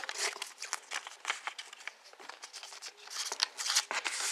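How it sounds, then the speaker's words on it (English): Repeated crisp snipping and rustling of paper, close up, in irregular bursts with no voices. "you can use your scissors to trim it."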